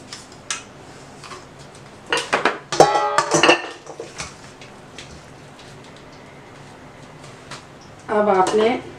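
Utensils clink and scrape against a bowl while mixing garlic paste into chicken marinade, in short bursts amid quiet stretches, with a brief spoken phrase near the end.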